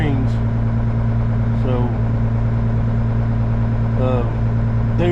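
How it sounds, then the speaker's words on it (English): A freshly rebuilt John Deere tractor engine runs at a steady low idle, a constant loud drone under a man's intermittent speech. "They just had the engine rebuilt in that tractor and they was wanting to seat the rings"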